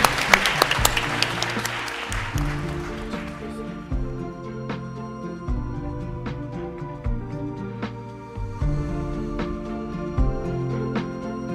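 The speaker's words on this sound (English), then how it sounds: "I think we can give a round of applause to this fantastic panel." Applause for a panel at a water financing roundtable meeting fades in the opening seconds into strong tonal music that carries on steadily to the end.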